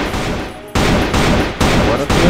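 Loud, dense bursts of rapid gunfire come from the Free Fire video game, firing in sustained volleys with brief breaks between them.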